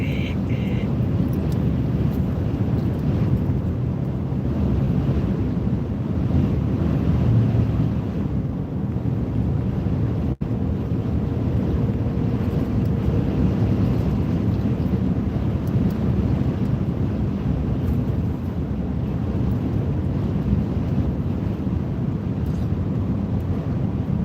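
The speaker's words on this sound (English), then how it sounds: "I think given a chance, the wind would blow you off the road here." Strong wind roars over an open road, a constant loud rumbling buffet against the microphone that never lets up for the whole stretch, with no voices.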